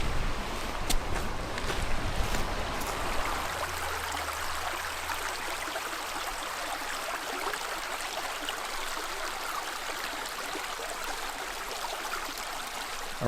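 Steady rushing water from a creek in a forest at Raccoon Creek State Park, a continuous broadband wash with some wind buffeting, heard alone without voices.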